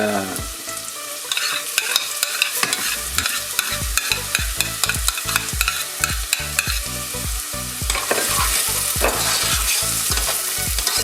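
Sliced fennel with onions sizzles loudly in a hot pan while a utensil stirs it, producing steady frying crackle with rhythmic scraping and tapping against the pan, no voices.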